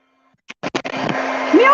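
A heat tool warms a small black paper piece held in tweezers for card making: a few sharp clicks, then a steady, fairly loud blowing hiss that runs to the end.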